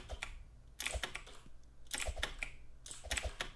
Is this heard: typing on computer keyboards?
yes